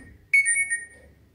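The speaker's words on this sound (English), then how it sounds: "my phone is playing a tune" A phone rings out a short bright ringtone melody, set off through a smartwatch's find-phone feature, starting abruptly and fading after about a second against faint background hum, with no voices.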